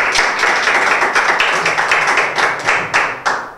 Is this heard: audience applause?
yes